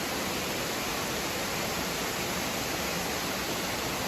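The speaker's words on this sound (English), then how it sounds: "Waterfall after waterfall after waterfall." Waterfall on the Appalachian Trail, a dense unbroken roar of rushing water that sounds close and loud, with no voices over it.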